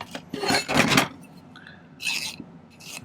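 A metal file rasps a silver pendant piece flat, with two quick close scraping strokes followed by a softer third stroke and a faint fourth, separated by short pauses.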